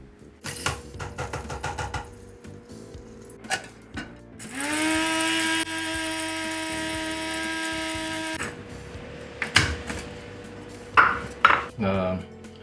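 Dried tomato ground in a coffee grinder for espresso, a loud steady motor whir lasting several seconds, framed by clattering and clinking of parts and utensils before and after.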